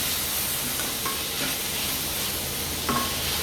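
Onion and spice mix sautéing in a pan for a brisk, steady sizzle, with a few sharp stirring scrapes cutting through close up.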